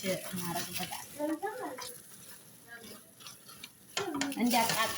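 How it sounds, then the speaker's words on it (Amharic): Fried potatoes are stirred in a pan while a Chinese-style dish is being cooked, giving scraping and clattering with a faint sizzle. A voice talks over parts of it. "የተጠበሰውን ድንች እናረግበታለን።"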